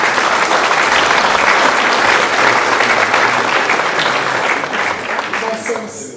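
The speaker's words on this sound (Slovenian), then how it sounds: "Jaz mislim, da se Konjičani zaslužijo mali aplavz za to." An audience at a cultural evening event bursts into loud, dense applause that holds steady for several seconds before easing slightly at the end, with some voices mixed in.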